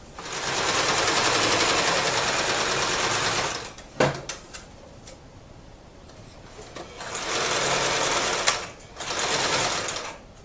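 Sewing machine stitching a sandbag seam, a loud steady whirring run for about four seconds, a pause with clicks and handling, then two more shorter runs.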